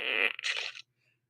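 A single short fart sounds close and loud with a wet, squirting buzz, lasting under a second and then cutting to silence.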